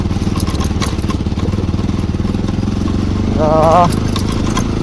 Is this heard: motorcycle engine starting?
yes